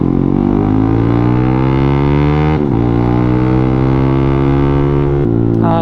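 A Yamaha Sniper 155 motorcycle with an A-Racer racing ECU, tuned by JCP Racing, screams at full throttle on a dyno, a loud, close, steady high-revving engine note that rises gradually and holds, with brief dips near the middle and end.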